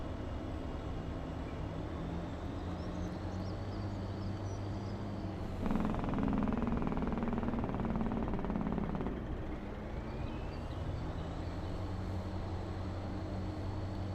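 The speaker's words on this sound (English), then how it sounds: "You've never heard a truck with a Jake brake before?" Truck with a Jake brake in the video game Farming Simulator 25: a steady engine rumble swells into a louder, rattling brake blast for a few seconds mid-clip, then settles back to a lower drone. No talking.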